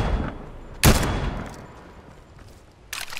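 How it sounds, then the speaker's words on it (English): Two sharp bursts of Fortnite video game gunfire, a loud close volley followed by a quieter burst a couple of seconds later, with a fading echo between. "I see gunfire far northeast."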